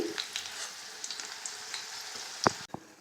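Pieces of fried potato come up out of hot oil, a steady soft sizzle under light clinks, with one sharp knock against the pan near the end before the frying noise quiets.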